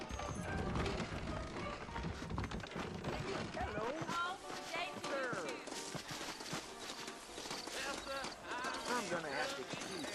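Horse hooves clip-clop along in the Western game Red Dead Redemption, a steady walking rhythm mixed in with dense music, ambient game sound and talking throughout.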